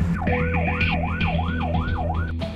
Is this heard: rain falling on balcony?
no